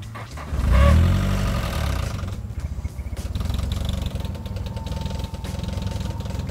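A 1991 car engine with freshly cleaned spark plugs starting with a loud low rumble, then settling into a steady, slightly uneven idle that runs on continuously.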